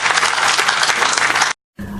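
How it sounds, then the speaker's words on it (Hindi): Loud audience applause at a Hindi-Urdu poetry mushaira in Nakodar, Punjab, steady dense clapping that cuts off abruptly near the end, followed by a brief low hum. "आप लोग जोरदार तालियों से इस्तकबाल कीजिए"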